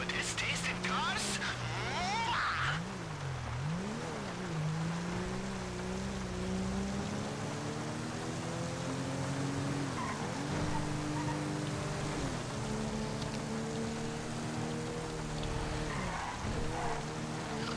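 Engine of a car in GTA 5 Online revving and shifting pitch as it drives, with rising and falling tones and hints of tyre skid, steady and fairly loud under a rainy wash and some talking.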